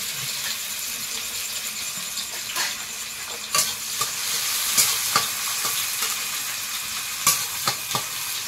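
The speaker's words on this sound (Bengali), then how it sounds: "পেঁয়াজ কুচি দেবো, এই কড়াইতে অল্প পরিমাণে দিয়ে দেবো।" Chopped onion frying in a small amount of oil in a wok, with a steady close sizzle broken by repeated scraping clicks of a spatula stirring, no voices.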